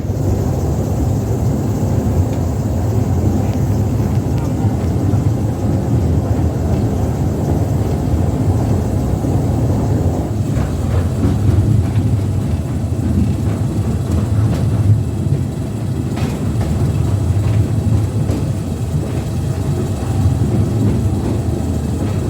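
A London Mail Rail Post Office Railway train rolls along the track, giving a loud continuous rumble and rattle with steady wheel noise throughout and occasional clicks and squeaks.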